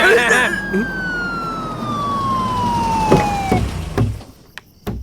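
An ambulance siren wails with a long falling tone, loud at first and fading after a few seconds, heard over traffic noise with voices around it.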